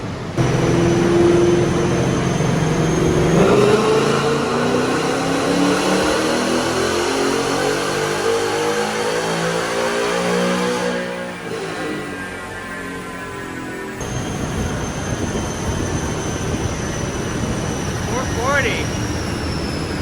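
A Ford Mustang engine revs loud and long on a dyno in first gear, its pitch climbing steadily through a hard pull before dropping back, over a constant heavy drone.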